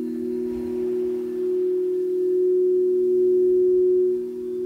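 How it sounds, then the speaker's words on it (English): Steady, sustained pure tones of a sound bath hum together as a smooth, unwavering drone, calm and alone without any voice. "feel free to enjoy the rest of this sound bath"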